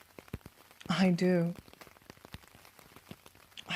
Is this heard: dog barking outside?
no